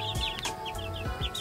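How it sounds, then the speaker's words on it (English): Baby chicks in an outdoor brooder on a cool night, giving repeated soft clucks and high chirps at close range, with no talking. "Let's check on our chickens."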